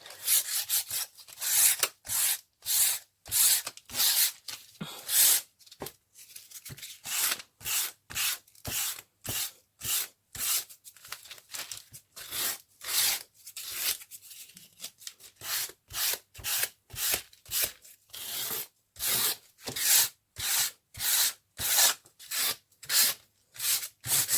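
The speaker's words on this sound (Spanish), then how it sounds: "en lijadas cruzadas para crear efectos" Rhythmic rasping strokes of fine sandpaper rubbing across a wooden board in cross-hatched passes, dozens of quick back-and-forth passes in steady bursts with short pauses, close and clear.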